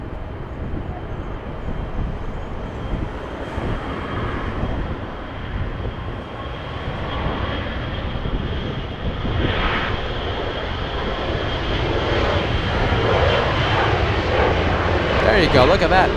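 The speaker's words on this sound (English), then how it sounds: "Delta from Honolulu. Battling a slight crosswind." Delta airliner arriving from Honolulu, landing in a slight crosswind at Los Angeles International, a steady engine rumble and whine growing slightly louder toward the end, heard under ongoing talk.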